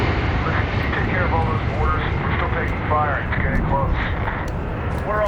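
Aircraft roar overhead during a Taliban airfield assault in the video game Medal of Honor 2010, a loud sustained engine rumble under game dialogue with voices speaking throughout.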